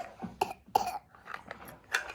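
A sick young girl coughs several times in short bursts with brief gaps, with a bit of throat clearing, close and fairly loud indoors.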